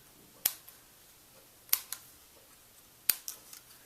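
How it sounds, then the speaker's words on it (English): Scissors make three sharp, separate snips through paper while cutting hexagon pieces, each a close crisp click with a small trailing rustle and quiet gaps between. "I know I can cut all those off"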